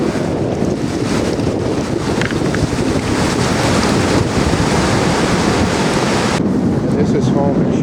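A strong seaside wind storm roars against a tent at night, a loud continuous rush of gusts and buffeting microphone wind with crashing surf blended underneath.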